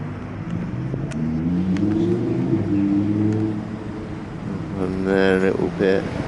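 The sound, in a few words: road traffic noise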